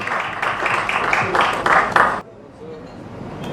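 Audience applause at a UK-Uganda trade and investment summit, a steady burst of clapping from the room that lasts about two seconds and then stops abruptly, leaving quiet.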